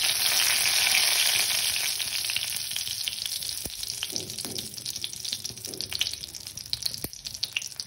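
Fennel seeds, half a dried chilli and bay leaf frying in hot oil for a boal fish dish, a loud bright crackling sizzle that settles into steady frying with a few sharp spatula knocks.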